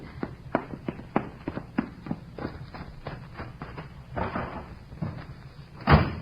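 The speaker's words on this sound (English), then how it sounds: "Heard you lock the door?" A door swings shut with a solid thud, preceded by a run of small clicks and rattles like a latch and lock being worked, close by.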